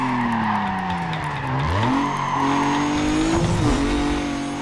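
In Need for Speed Carbon, a tuner car's engine revs and shifts pitch while its tires squeal through corners, loud and continuous with gear changes audible as the pitch falls and climbs again.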